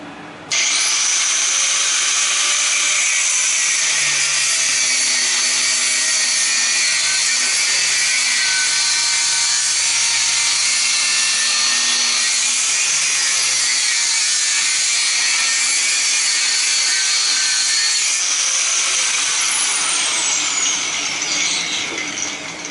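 Steady grinding of a power tool splitting scrap brass frost-free water spigots, loud and continuous for about twenty seconds with a low hum beneath, no voices.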